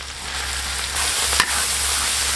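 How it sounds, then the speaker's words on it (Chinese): Minced garlic sizzles and is stirred in pickled-chili red oil in a wok, a steady bright frying hiss with a brief scrape partway through, no voices. "炒出红油，放入香蒜末"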